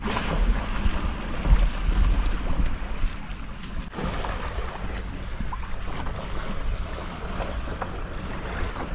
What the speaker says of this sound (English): Definitely motoring. Oh yeah, he's motor sailing.